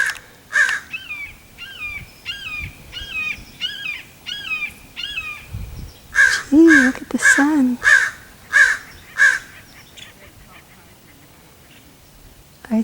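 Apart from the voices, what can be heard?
raven cawing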